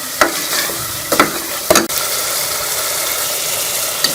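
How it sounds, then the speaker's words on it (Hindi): Green peas fry with spices in a pan for an aloo matar curry, a loud continuous sizzle broken by three sharp scraping stirs early on. "मटर को भी हम मसाले के साथ भून लेंगे।"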